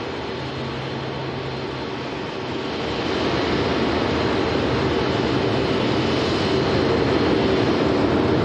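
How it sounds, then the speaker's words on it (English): An Emirates Airbus A380 passes at Manchester Airport as a broad, steady jet roar that swells slightly partway through and then holds loud and constant, with no talking. "Huge aircraft, this Emirates Airbus A380."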